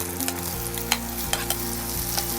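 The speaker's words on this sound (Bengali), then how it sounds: "আমাকে টেস্টের জন্য আমি শুকনো লঙ্কাটা ফোড়নে দিয়ে দিলাম।" Whole dried red chillies crackle and sizzle in hot oil as a tempering for a Bengali fish curry, a close, steady frying hiss with sharp pops and a low rumble underneath.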